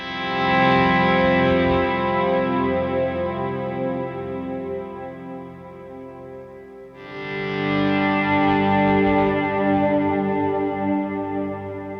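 Distorted electric guitar recorded only through ribbon microphones, sustained heavy chords with effects ringing loud and full, a brief dip near the middle before a new strummed chord swells back in.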